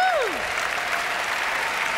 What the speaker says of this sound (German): Einen ganz besonderen Applaus, meine Damen und Herren, für Herrn Helmut Berger